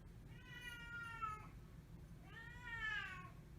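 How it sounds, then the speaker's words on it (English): A cat wanting to go outside meows twice, each call drawn out for about a second and rising then falling in pitch, close by over a low background hum. "my cat want to go outside. It's got my attention."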